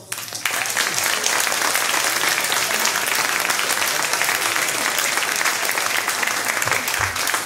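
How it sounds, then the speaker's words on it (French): A concert audience in Capinghem applauding the sound engineer, dense sustained clapping from a full hall that starts abruptly and continues steadily to the end. "Au son, vous pouvez applaudir également monsieur Arnaud."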